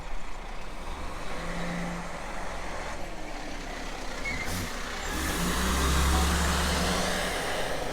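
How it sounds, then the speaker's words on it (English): Dump trucks rumble past on a road in The Villages, Florida, a steady heavy engine drone with a louder truck passing nearby partway through, plus faint air brake and beeping sounds. "There are too many dump trucks here."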